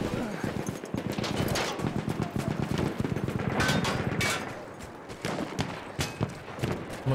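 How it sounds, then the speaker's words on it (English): Dense gunfire from Battlefield 1 multiplayer, rapid overlapping shots crackling steadily for several seconds amid a busy battlefield din, fairly close and loud throughout. "Someone's shooting at me"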